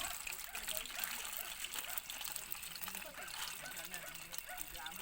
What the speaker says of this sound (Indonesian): Dan mudah-mudahan hujannya berhenti lah sampai pagi, jangan sampai dia kembali lagi